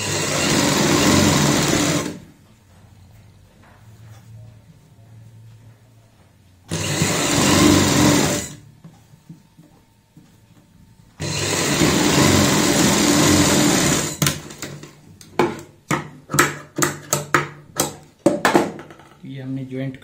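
A sewing machine stitches the side seams of a girl's party-wear frock in three loud sustained runs separated by quiet pauses, then a string of short stop-start bursts, with no talking.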